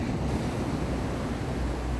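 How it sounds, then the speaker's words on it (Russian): Sea waves wash onto a beach in Alanya, Turkey, a steady broad rushing surge with some wind noise on the microphone, heard alone and fairly close, with no voices. "Вот вам волны, вот вам звук моря."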